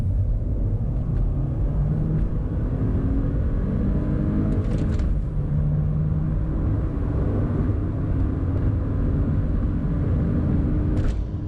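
A manual VW Golf MK8 R-Line with a 130-horsepower engine pulls hard through a 30 to 70 sprint, heard from inside as a low, steady engine drone and road rumble that holds without clear breaks.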